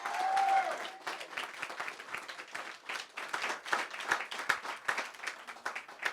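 A live audience at a leadership event in Baltimore claps loudly, a fast, crackling burst of many hands that swells and dips in waves for several seconds, with a brief shout at the start.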